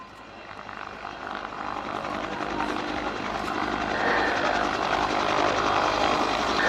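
A Westland Whirlwind helicopter with a turboshaft of about 1,050 shaft horsepower flies slowly past at an air day during a winch simulation, its rotor thrum and engine whine building steadily louder as it nears.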